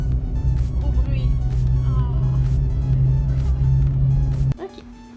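A car rolls over an unfamiliar bridge with a steady, loud low rumble and droning engine that cuts off abruptly near the end, with faint voices in the background.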